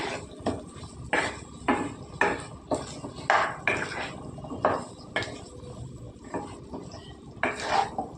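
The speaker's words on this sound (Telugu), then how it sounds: "క్యాలీఫ్లవరు బాగా నూనె అంతా పట్టేలా కలుపుకోవాలి" Cauliflower pieces are stirred through oil in a pan, with a regular run of spatula scrapes and clinks against the metal, close by, over a faint background sizzle.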